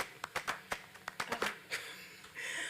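An audience at a talk on gender journalism claps briefly, a scattered patter of individual hand claps at moderate distance that thins out quickly, faint and alone.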